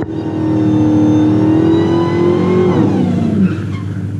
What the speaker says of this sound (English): See if we can see a big burnout from Dave here.